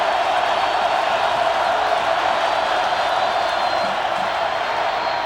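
A football stadium crowd at a North Dakota State versus Sam Houston State game sends up a steady, dense roar that stays loud and even throughout.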